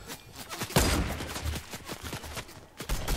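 Rapid bursts of gunfire in a Fortnite match, a loud volley followed by scattered repeated shots at varying distance, with brief moments of quiet between.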